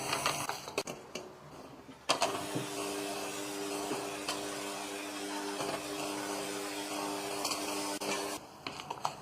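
An electric mixer whirs steadily through eggless chocolate cake batter, starting with a clunk and running at a constant hum with faint rattles before stopping near the end.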